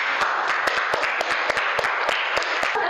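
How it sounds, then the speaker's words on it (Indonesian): A small group of students claps together in a classroom, loose and uneven hand claps at close range for a few seconds. "Terima kasih. Tepuk tangan dong."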